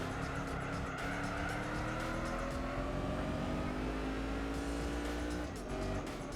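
A supercharged car engine in Gran Turismo 4 on PS2 roars continuously, revs climbing in long sweeps through the gears with brief shift dips and faint tire squeal, loud and close.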